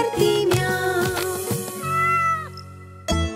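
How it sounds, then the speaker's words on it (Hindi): A cat meows loudly and close up, several drawn-out tonal cries in a row with a short break before a final one, set within a children's nursery rhyme. "बिल्ली करती म्याऊ"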